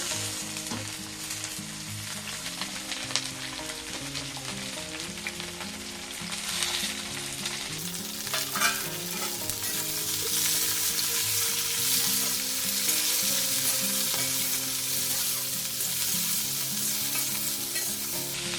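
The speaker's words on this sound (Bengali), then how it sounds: "এবার আমি এর সাথে বেগুনটাও একটু ভেজে নেব" Eggplant, potato and pea pieces fry in a pan with a dense, close sizzle that grows louder and brighter midway, broken by intermittent stirring scrapes and clinks.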